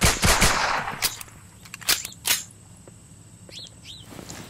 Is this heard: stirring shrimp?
no